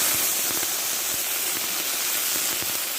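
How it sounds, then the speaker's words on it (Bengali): Ginger paste and five-spice (panch phoron) frying in hot oil for a Bengali data stalk recipe, giving a steady loud sizzle with scattered sharp crackles and pops throughout. "দেখো আদা টমেটোটা আমি ভালো করে একটু কষে নিচ্ছি"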